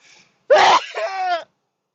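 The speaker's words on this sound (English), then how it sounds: "I just had to sneeze" A single loud, close sneeze bursting out abruptly and trailing off with a brief voiced tail, in an otherwise quiet room.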